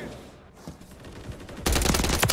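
Gunfire from a weapon in the video game Call of Duty: Modern Warfare 3, a loud burst of rapid shots that breaks in suddenly after a quieter stretch and keeps going to the end.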